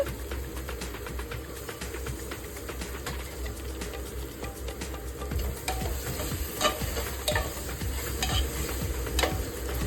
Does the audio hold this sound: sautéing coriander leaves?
yes